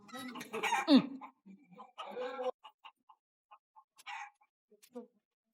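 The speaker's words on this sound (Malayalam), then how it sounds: "ഒരു കോഴിയുടെ ശബ്ദം കേൾക്കുന്നില്ലേ?" A chicken clucks a few times close by in a comedy sitcom scene, partly under people talking and followed by quieter scattered sounds.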